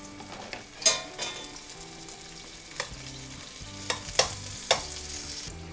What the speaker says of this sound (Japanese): 今ベーコンを加熱してるところなんですけど